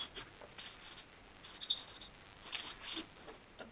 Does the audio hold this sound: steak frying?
no